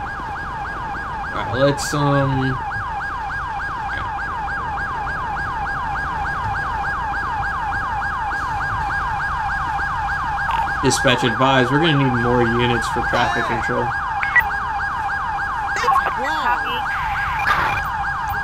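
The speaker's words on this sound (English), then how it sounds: "Is that my siren?" Police siren in the LSPDFR game for a Los Angeles County Sheriff's patrol car, a loud steady wailing tone cycling continuously throughout, with occasional radio-style voices and someone speaking over it.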